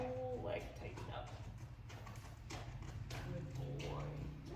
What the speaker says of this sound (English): We've got a horse coming. He's about to walk in front of the barn and he heard the hoof beats